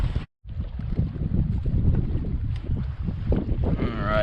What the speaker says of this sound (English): It's still super windy.